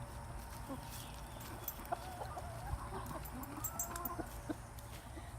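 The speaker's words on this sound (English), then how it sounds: "Big old rooster." A big rooster clucks softly at a farmyard garden under shade trees, with scattered quiet clucks and bird calls over a low, steady outdoor background.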